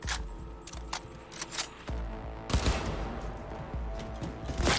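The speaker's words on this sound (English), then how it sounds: "This gun has quite some vertical recoil." Rapid bursts of automatic gunfire from a weapon in Cyberpunk 2077, loud and close, with repeated sharp shots in quick succession and a heavier volley midway, no talking.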